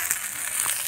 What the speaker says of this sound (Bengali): আর এখন এই যে ঢ্যাঁড়স ভাজা হচ্ছে